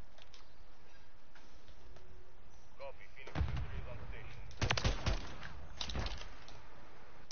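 Gunfire from a VTOL aircraft in a video game crackles in a few bursts, muffled and fairly distant, over a steady background hiss.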